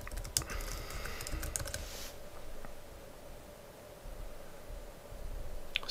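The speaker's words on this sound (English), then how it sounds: "So you're going to type in your site" Close typing on a computer keyboard: a quick burst of key clicks over the first two seconds, then quiet background hiss, with another short keystroke near the end.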